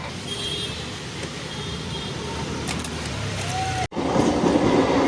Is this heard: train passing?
yes